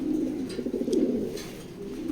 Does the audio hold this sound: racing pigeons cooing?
yes